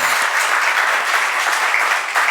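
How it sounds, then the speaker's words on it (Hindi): A crowd applauds during a Digambar Jain monk's sermon in Indore, a loud, dense, sustained clapping that fills the whole stretch without voices over it. "बात ताली बजाने की नहीं है"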